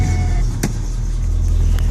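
A carbureted car engine without a choke runs close by in a steady, low, rumbling idle, with a brief mechanical clunk early on.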